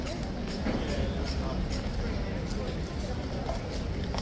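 Police horses' hooves clip-clop on pavement at a protest, a steady run of hoofbeats under the constant murmur of a crowd and nearby voices.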